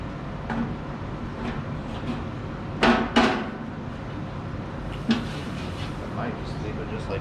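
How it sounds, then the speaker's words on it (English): Hammer blows on a sheet metal radiator fan shroud in a fabrication shop: a few sharp metallic strikes, a close pair near the middle and a single one later, with someone talking throughout. "I'll finish this out with a hammer"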